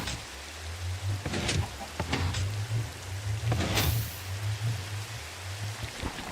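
Steady hiss of rain falling in a Minecraft skyblock world, with low humming tones and a few sharp game clicks and thuds scattered over the constant patter.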